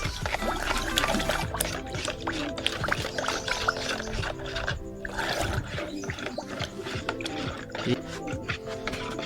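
A spoon stirs sugar and Oxafax deworming syrup into water for pigeons, giving faint clinking and swirling liquid sounds with a voice speaking over them.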